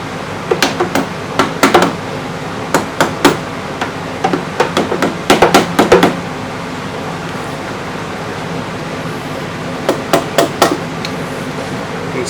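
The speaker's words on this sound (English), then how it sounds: "I use a rubber mallet. Just tap around it a little bit and it'll pop off." Rubber mallet tapping around the valve cover of a Suzuki V-Strom DL1000 motorcycle to loosen it, a series of sharp, close knocks in quick clusters with pauses between them.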